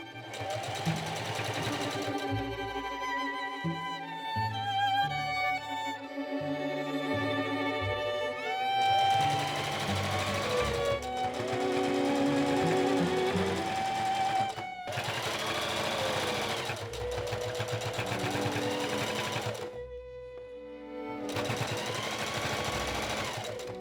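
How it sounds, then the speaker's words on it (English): A sewing machine stitches binding onto the bottom of a beaded corset belt in long steady runs of rapid needle chatter, pausing briefly between passes, close and prominent over background music. "Then I sew the binding to the bottom"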